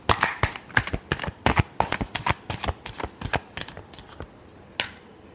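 Tarot cards are shuffled in a quick run of crisp riffling snaps and flutters, close and distinct, tapering off near the end with no talking.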